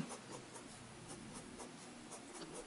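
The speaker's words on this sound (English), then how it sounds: "This is how you shade in pen." A pen shades ink strokes onto paper in a quiet, close, rhythmic scratching, with each back-and-forth stroke faintly audible.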